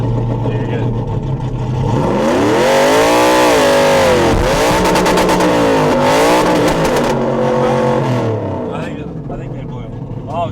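A car doing a burnout at The Freedom Factory, a loud, close engine revving in long rising and falling sweeps with tyre roar and a harsh rattling burst midway, voices calling out over it.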